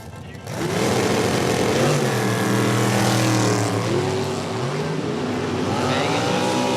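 An American Race Cars dragster at a Super Comp drag race roars loudly as its engine revs, with rising and shifting pitch sweeps, close and sustained, while an announcer talks over it.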